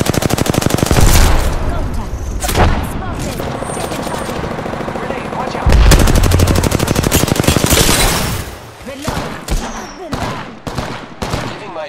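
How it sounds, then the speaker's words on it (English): Rapid automatic gunfire in the Apex Legends video game, dense sustained bursts of shots with brief pauses, loud and close, with game voice lines over it. "Opening fire on the enemy."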